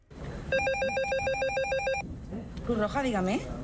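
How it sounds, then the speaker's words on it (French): A telephone at the Red Cross office in Valencia rings with a repeated electronic trilling pattern for about a second and a half, followed by someone speaking. "Le téléphone n'arrête pas de sonner à la Croix-Rouge de Valence."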